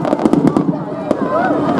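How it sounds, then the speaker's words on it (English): Rapid crackling pops and bangs of fireworks fired from a helicopter over the sea at a night air show at Clacton, UK, going off in quick succession, with a voice talking over them. "Now some massive fireworks of all colours shooting from the helicopter, glistening in the sea."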